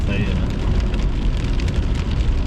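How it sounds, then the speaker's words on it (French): Steady hiss of rain falling on a surface during a storm chase, with a low rumbling background and a faint voice mixed in. "c'est pas mal de la pluie, là."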